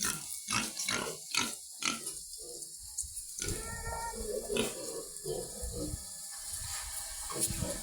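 Pigs grunt and snort close by on a farm, mixed with wet slurping and splashing sounds of feeding, with no talking.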